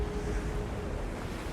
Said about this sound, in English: It's gonna make a waterfall.